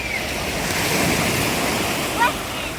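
Sea waves wash continuously onto a sandy beach, a broad steady roar of surf with wind noise, with a faint swell near the end.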